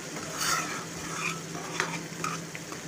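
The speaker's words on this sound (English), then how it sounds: "the tomatoes take about a couple of minutes to cook more with the masalas" Tomatoes cooking with masala spices in a pan for masala paneer wraps give a steady, soft sizzle, with occasional stirring scrapes and light utensil clicks and no voices.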